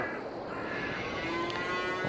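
Cattle in Farming Simulator 22 give a drawn-out moo over steady farm ambience, moderately near and alone, holding through most of the two seconds.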